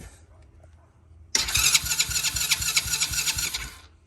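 Starter cranking a 125cc Tao Tao with the choke off: after a quiet opening, a loud, close, rasping whir with a steady pulsing chug runs for about two seconds, then cuts out without the engine catching.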